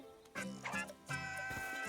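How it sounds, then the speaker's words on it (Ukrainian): Synthetic pig oinks and squeals from Rayman Legends play in quick succession, loud and tonal, with layered electronic sound effects. "І свині співають."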